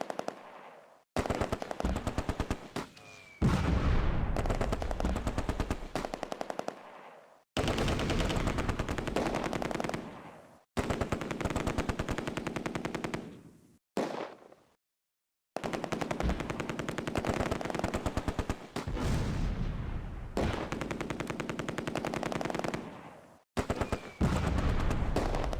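Vickers machine gun bursts mixed with 3-inch mortar fire in a Close Combat wartime battle, loud rattling gunfire in repeated sustained bursts broken by short pauses, no talking.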